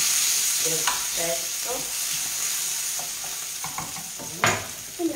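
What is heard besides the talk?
anchovy fillet sizzling and melting in a frying pan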